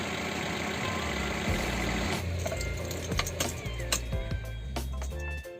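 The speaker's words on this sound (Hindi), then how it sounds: "तो बाहर से कुछ ऐसा साउंड प्रोड्यूस कर रहा है गाइस ये इंजन" A Mahindra Bolero Pickup FB 1.7T (BS6) runs with its engine heard from outside, giving a steady low idle rumble with light mechanical ticking and clatter over a few seconds.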